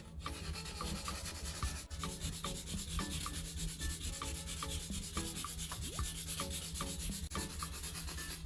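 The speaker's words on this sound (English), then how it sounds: "use P240 to sand the raised filler down until it is almost level with the surrounding plastic" P240 sandpaper rubbing back and forth over raised plastic filler on a broken plastic part, a steady scratchy sanding at close range with regular strokes throughout, no voices.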